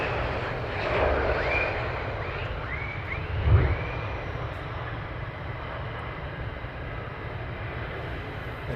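Fighter jets departing RAF Lakenheath produce a distant, sustained jet roar that swells slightly early on and then holds as a steady rumble, with no one speaking.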